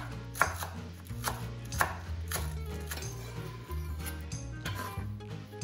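A knife chops green onion stalks on a cutting board in a steady series of crisp, close taps, with background music playing underneath.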